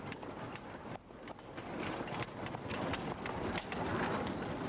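Hooves of a horse pulling a horse-drawn rail car clatter as it trots between the rails over buried wooden planks, a steady clip-clop rhythm at moderate distance with no speech.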